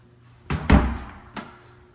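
Coat closet door in a desert home opening with a couple of close wooden knocks and a thud, followed by a lighter bump a moment later, with no talking.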